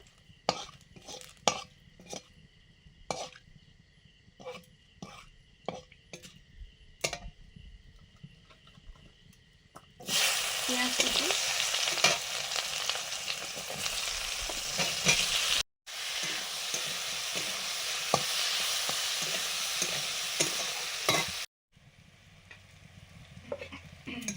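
Meat clatters as it is stirred in a pan with sharp scraping knocks, then a loud steady sizzle of frying takes over, briefly cut off twice.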